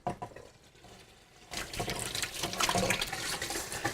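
Tap turned on for washing hands in a kitchen, quiet fumbling at first, then a sudden close rush of running water splashing steadily until the end, no speech.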